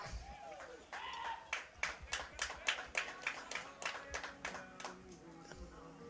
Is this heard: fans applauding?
yes